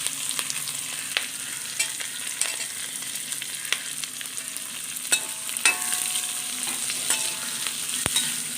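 Green chilies and seeded gooseberries fry in hot oil for a Kerala gooseberry pickle, giving a steady high sizzle with occasional sharp pops and crackles and soft stirring clicks throughout, and no voices.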